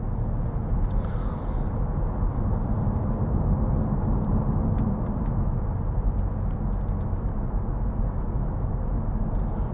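Steady low drone of a car engine cruising under power, accompanied by constant road and cabin rumble, smooth and unchanging throughout with occasional faint clicks and no speech.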